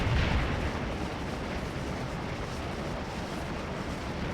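Civil War cannon fire in the Antietam battle game Scourge of War rolls as a dense, continuous booming rumble that starts loudest and stays heavy throughout, with no talk.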